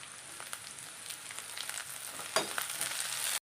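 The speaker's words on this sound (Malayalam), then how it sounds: "ഒരു മീഡിയം സവാള കുറച്ച് കറിവേപ്പില ഇട്ട് കൊടുക്കാം" Sliced onion and curry leaves fry in hot oil in a pan for a prawn and ridge gourd dish, giving a soft, steady sizzle with a brief louder crackle as they go in, close and quiet, with no voices.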